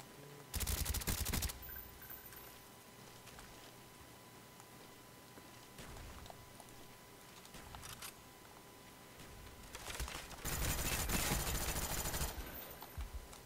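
FAMAS bursts in a first-person shooter game come as two loud dense clusters of rapid automatic fire, separated by a quieter stretch of scattered game effects and distant shots.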